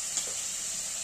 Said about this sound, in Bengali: এগুলোকে দিয়ে ভালো করে একটু হালকা লাল করে ভেজে নেব